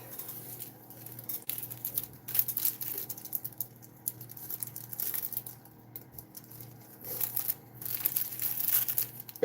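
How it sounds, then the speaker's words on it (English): Model aircraft canopy being slipped into a small plastic bag and then into a second bag, with close, soft plastic crinkling and rustling in irregular bursts throughout. "bear with me as I put my canopy back in this little plastic bag and back into this other bag here"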